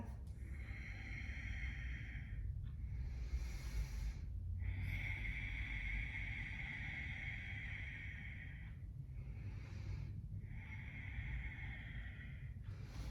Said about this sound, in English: 3 breaths.